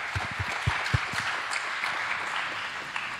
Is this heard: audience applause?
yes